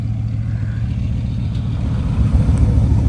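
A Bugatti Veyron's engine roars steadily at close range, the low rumble swelling slightly louder toward the end as the car pulls away under light throttle.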